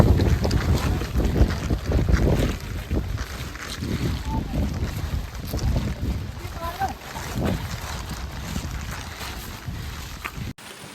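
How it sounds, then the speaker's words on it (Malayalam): Strong wind buffets the microphone on a hill trip to Kakkadampoyil in the rain, a loud, steady rumbling roar with gusts and faint voices underneath. "നല്ല കാറ്റ്"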